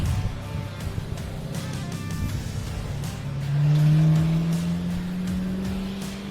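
Drift car on track at Meremere Drift Park in New Zealand, an engine roaring and revving near the camera, rising to a loud sustained high-rev tone with pitch shifts as it accelerates.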